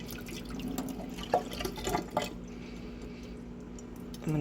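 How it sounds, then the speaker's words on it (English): Fresh water swishes and sloshes inside glass jars being rinsed in a kitchen, with faint splashes and drips over a low background hum, soft and close with no speech. "So I'm literally just rinsing by swishing around fresh water."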